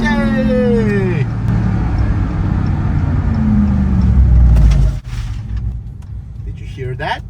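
Dodge Ram TRX pickup at full throttle with tires struggling for grip: a loud, sustained engine roar with rising whine and rumbling low end for about five seconds, then a sudden drop to lighter rumble as it backs off.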